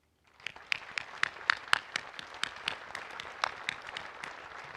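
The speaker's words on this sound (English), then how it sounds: "it deserves another round of applause" Scattered applause from an audience at the 84th anniversary Pearl Harbor remembrance ceremony, with distinct individual claps that swell briefly and then thin out.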